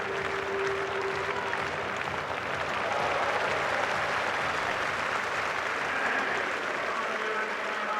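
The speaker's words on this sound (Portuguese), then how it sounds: "os medalhistas também aproveitam para receberem os aplausos aí diante do torcedor" Steady applause from a stadium crowd in Helsinki at the European Athletics Championships, greeting the medalists, a broad, fairly distant wash of clapping that holds evenly throughout.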